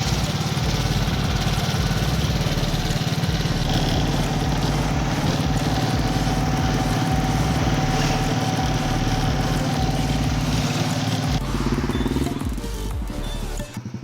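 Vehicle engine running steadily at a driving test ground in Pathanapuram, a continuous close idle-like drone that holds unbroken throughout and eases slightly near the end.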